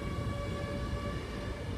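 A train pulls in at a platform at Peterborough station, giving a steady rumble with sustained high whining tones, close and continuous and with no voices.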